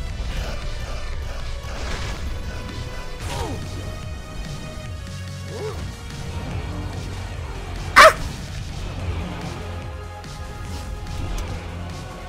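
A dog barks in the video game God's Trigger: one sharp bark stands out clearly over a busy mix of game music and effects, with someone talking throughout.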